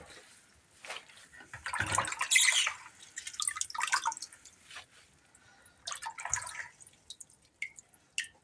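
Water dripping and trickling off freshly washed wild Black Sea herbs, including sirken greens, in bursts of splashing drips at close range, with no talk.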